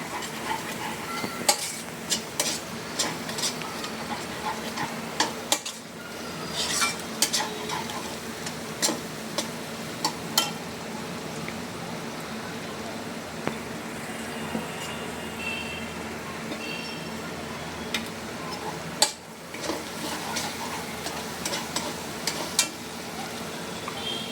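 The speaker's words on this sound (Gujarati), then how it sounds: "હવે એને ધીમા તાપે, મીડિયમ તાપે સાતળવાની રહેશે." A pan of kaju gathiya mixture being sautéed and stirred over low to medium heat, giving a soft steady sizzle broken by frequent light clinks and scrapes of a spoon against the metal.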